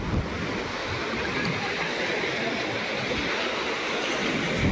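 Steady roar of strong surf after a typhoon, with continuous broadband wash, waves rumbling close by and wind noise over the microphone, no voices.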